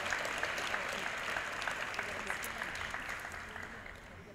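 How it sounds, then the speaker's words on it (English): A crowd at a school committee meeting claps steadily, the dense patter of hands fading slightly toward the end. "please hold your applause until the end so we can hear the names"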